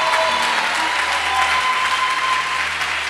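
A church congregation applauds throughout, a dense, steady wash of clapping from a sizable crowd, loud and continuous with faint voices mixed in.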